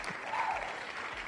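Recorded crowd cheering and applause from a wheel-spinning game show plays at low level in a short burst, a soft wash of clapping and cheers.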